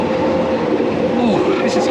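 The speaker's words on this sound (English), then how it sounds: "Walked down onto the platform and the train arrives." A London Underground train pulls into the platform with a loud, steady rumble and rolling wheel noise that holds throughout, with a brighter squeal rising near the end as it slows.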